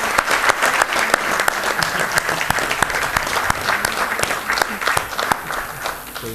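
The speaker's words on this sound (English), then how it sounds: "Can I have a round of applause from the audience?" Audience at a National Textile Conference closing session breaks into a round of applause, dense steady clapping from a crowd lasting throughout, loud and even with sharp individual claps standing out.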